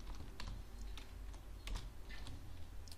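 HTML code being typed on a computer keyboard, a steady run of soft, quick key clicks at close range over a low background hum, no talking.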